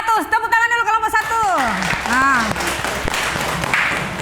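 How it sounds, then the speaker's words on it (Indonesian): Classroom students applauding group 1: a teacher's voice speaks first, then a burst of clapping rises underneath as a voice sings or calls out over it, the applause continuing to the end. "Tepuk tangan dulu kelompok"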